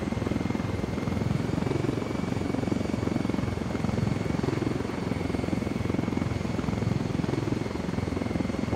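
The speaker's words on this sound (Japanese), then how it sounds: "このヘリいいな、やっぱり。" A helicopter in the video game Ghost Recon Wildlands flies with a steady, loud rotor and engine drone that holds constant throughout without any talk.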